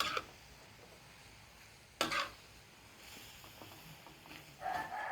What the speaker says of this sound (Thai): ก็ผัดให้เขาอ่อนนิดนึง จะแซ่บเลยค่ะ